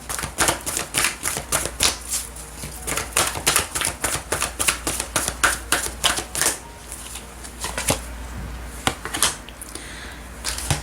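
Oracle cards shuffled and drawn at close range for a tarot reading, a quick run of crisp riffling flicks followed by a few sparser card slaps and shuffles.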